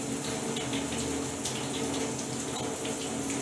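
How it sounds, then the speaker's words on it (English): A tap runs steadily into a sink while hands are washed clean of curry stains. The water makes a constant, close splashing rush with no pauses and no talking. "wash your hands."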